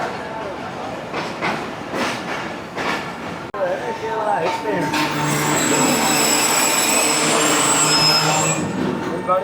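Busy Rohri railway junction in Pakistan, with train wheels clattering and rising into a loud sustained squeal of rails as a train rolls through, crowd murmur and station bustle underneath.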